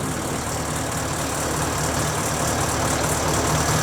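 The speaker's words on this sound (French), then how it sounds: "je vais m'approcher du camion. Voilà, là je suis à côté, tu vois. C'est très sonore." A truck engine idles close by, a steady, loud rumble that holds an even level throughout with no talking over it.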